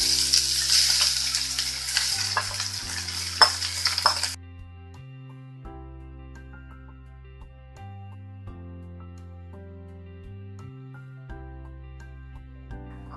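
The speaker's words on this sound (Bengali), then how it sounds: "খুব বেশি ভাজতে হবে না, 3-4 মিনিটের মতো ভেজে নিব" Leftover cooked rice hits a pan of browned onions with a loud, bright sizzle for the first few seconds, then the frying drops to a quiet hiss under soft, sustained music.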